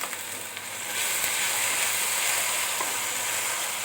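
Garlic paste hitting hot oil in a pan while cooking shapla with dried shrimp, giving a steady, loud hiss and sizzle that swells after the first second and holds, with a few faint clinks.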